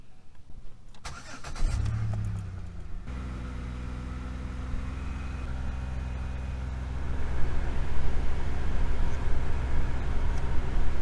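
A 2006 Chevrolet Impala cranks and starts, then its engine settles into a steady mid-pitched drone held at about 2,500 RPM, close and continuous, rising slightly louder toward the end.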